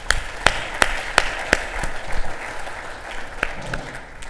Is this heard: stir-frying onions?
no